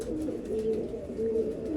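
A pigeon coos softly nearby, with low, throaty calls repeated in a slow rhythm.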